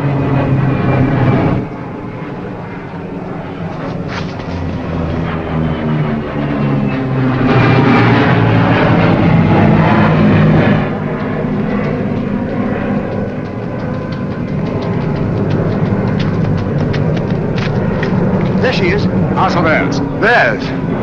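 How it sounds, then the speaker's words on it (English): Propeller plane flying overhead in a 1940s thriller scene, a loud continuous engine drone swelling and fading with shifting pitch, mixed with dramatic background score and occasional voices. "That's a pickup plane."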